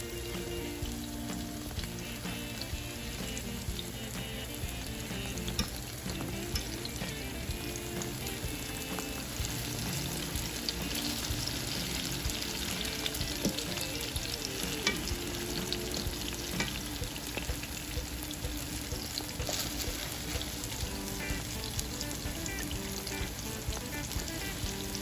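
Food fries in a skillet over a fire while a Jamaican breakfast is prepared, giving a steady, even sizzle and crackle that runs on without a break, with no talk.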